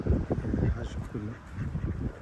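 Canada geese and wild ducks honking in a short burst of repeated nasal calls close by, with some voices and background noise mixed in.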